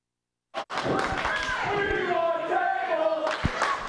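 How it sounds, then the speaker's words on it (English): A wrestling arena crowd roars and chants for tables during a brawl, a steady loud mass of voices with a couple of thuds, while an excited commentator talks over it. "The crowd's saying we want tables."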